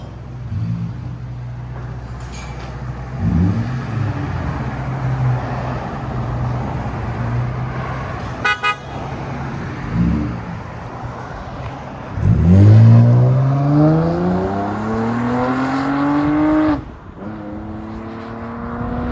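A 2004-2008 Acura TL 3.2L V6 with a modified exhaust idles with a deep, steady rumble, then revs in several short blips and one long rising, loud rev before settling back to idle.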